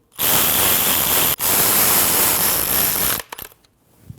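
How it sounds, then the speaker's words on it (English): A power tool runs steadily for about three seconds with one brief break while tightening three 10mm bolts on a cover on a 2012-2016 Honda CR-V, close and loud, then stops into faint clicks. "Tighten those 3 10mm bolts"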